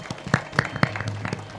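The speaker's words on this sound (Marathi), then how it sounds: "एकदा जोरदार टाळ्या वाजवा" An audience at a kirtan gathering claps, a short burst of scattered, uneven hand claps nearby that lasts under two seconds.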